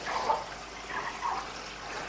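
A Dolphin C 1000 aquarium canister filter fills with water, gurgling and trickling with intermittent air-bubble sputters, close and moderately loud with no talking.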